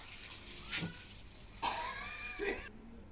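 Water is poured over a dog from head downward during a bath, splashing in a few short bursts over a low background, with what may be a faint whine from the animal.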